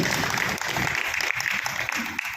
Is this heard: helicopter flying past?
no